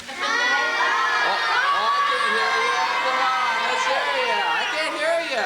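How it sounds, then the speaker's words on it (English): A group of schoolchildren in Orangevale, California yells and screams together, a loud, sustained crowd of high, overlapping shrieks and shouts rising and falling throughout. "can they yell and scream at us for a minute?"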